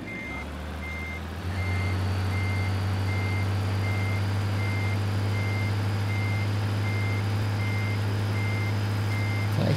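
A truck's reversing alarm in a truck driving video game gives evenly spaced beeps over a loud, steady engine drone that kicks up after about a second and a half.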